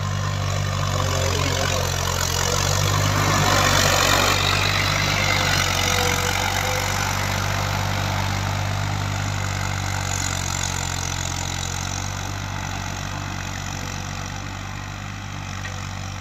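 A Ghazi tractor fitted with a cultivator idles steadily in a Punjab cotton field, its low engine rumble continuous and close, holding an even level throughout with no talk.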